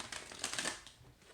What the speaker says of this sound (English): These cards are a little bit hard to shuffle, so bear with me.